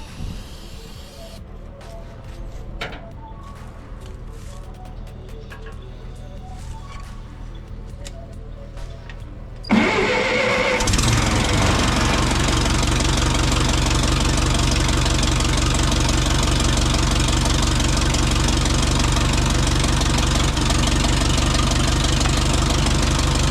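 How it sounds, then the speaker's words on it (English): An old Ferguson TO20 tractor, idle for six months, is started on ether: quiet at first, then at about ten seconds the engine catches and settles into a loud, steady, knocking idle that runs to the end without talk. "It's time for the old Ferguson TO20 to get a happy ether, stretch some head bolts, and bend some connecting rods."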